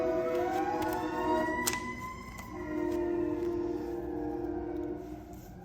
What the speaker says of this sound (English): Sorry, I had to pause because of the sirens.